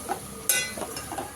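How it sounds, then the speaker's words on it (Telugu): Pieces of boti, goat tripe, frying in hot oil for Telangana-style gongura boti, with a soft sizzle under a few stirring scrapes and a sharp metallic clink of a spoon against the pan, close and brief. "మంచిగా ఫ్రై అవుతుంది"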